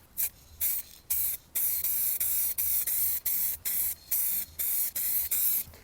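Titanium silver base coat sprayed onto a BMW in short repeated bursts of hissing spray paint, close and even, separated by brief pauses, with no voices.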